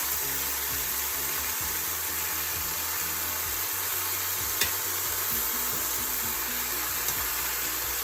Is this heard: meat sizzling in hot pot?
yes